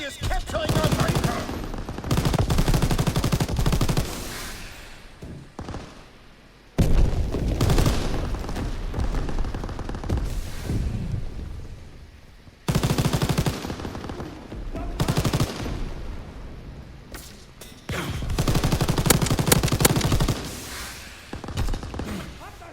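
Call of Duty WW2 gameplay fills the air with long, loud bursts of rapid automatic gunfire and scattered shots, broken by brief lulls, with a player's voice talking in the mix.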